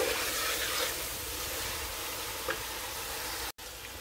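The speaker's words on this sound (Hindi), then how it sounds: "अब मैंने इसको अच्छे तरीके से भून लिया" Chicken and spices being roasted bhuna-style in a pan give a steady broadband sizzle and hiss, with a soft stir or clink near the middle and a brief cut near the end.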